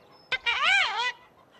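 A cartoon chicken lets out a bright, warbling cluck-like squawk that rises and falls over about a second, after a short sharp chirp, heard alone and close.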